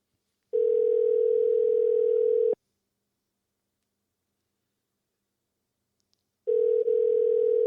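A telephone call rings out in two long, steady electronic tones separated by several seconds of silence while the line waits for an answer, loud and close with no voices.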